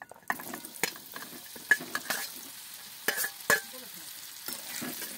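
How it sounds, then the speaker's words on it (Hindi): Pointed gourd frying with turmeric in oil in a kadhai, with soft crackling sizzle and several sharp spatula scrapes and knocks at irregular intervals, close and moderately quiet, no talk. "परवेलला चांगला आपण फ्राय करून घेऊ।"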